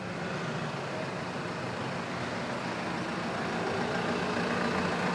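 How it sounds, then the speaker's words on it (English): A farm tractor engine running steadily near at hand, a constant loud drone with no pauses throughout. "Can you hear the noise of the tractor?"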